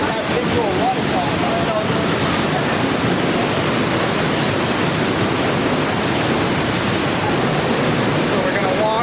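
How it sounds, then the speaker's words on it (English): Waterfall at Watkins Glen roars in a dense, unbroken rush of water, loud and close throughout, seemingly heard from a path passing beneath the falls. "So we're gonna walk under the waterfall here."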